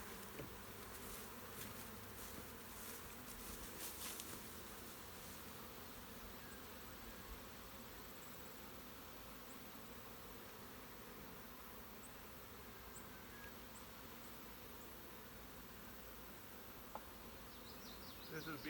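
Honeybees buzz steadily as a brood frame is lifted from a hive and shaken. The dense droning hum is close and continuous, with a few faint knocks.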